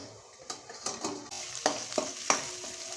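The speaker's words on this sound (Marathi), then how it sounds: "थोड्या झाकून आपण भाजी परतून घेऊया" Peas and carrots being stirred and sautéed in a pan, with soft sizzling broken by several distinct scraping clicks of a spatula against the pan, close by and fairly quiet.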